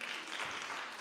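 An audience at a performing arts conference in Kenya claps, a short, steady wash of applause.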